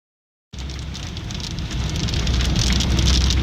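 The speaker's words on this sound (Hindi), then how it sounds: "हमें आहिस्ता आहिस्ता बारिश मिलना शुरू हो गई" Winter rain begins abruptly after a brief silence and drums steadily on a car, growing heavier and denser with no voices.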